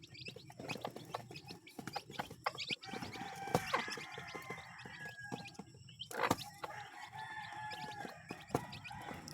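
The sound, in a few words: chicks feeding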